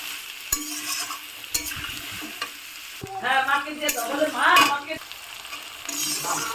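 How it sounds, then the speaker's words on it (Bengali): Boiled potatoes sizzle in a hot pan while a spatula stirs them, giving scattered knocks and scrapes against the metal over a bubbling, spitting fry that swells in the middle. "আলুটা আমি বেশিক্ষণ ভাজবো না, যেহেতু আলুটা সেদ্ধ করা"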